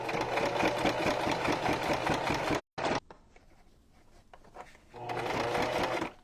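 A sewing machine stitches a junk journal cover, its steady motor whir running loud for the first few seconds, breaking off briefly, then resuming after a quieter stretch with faint handling sounds.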